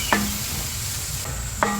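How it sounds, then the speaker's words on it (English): Four cloves of freshly minced garlic stirred in a hot pan on a Kamado Joe grill, a continuous sizzle broken by two distinct utensil scrapes at the start and end. "I've got about 4 cloves of freshly minced garlic, and we're going to keep cooking that until that garlic starts to take on just a little color"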